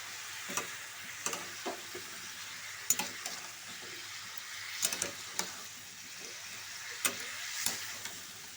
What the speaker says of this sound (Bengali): এবার নাড়াচাড়া করবো ধরে নাড়তে হবে